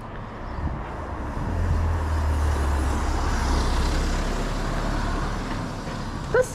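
A car engine running rough and unhealthy, a steady low droning rumble that swells slightly and holds at moderate loudness, with a brief sharp sound at the very end.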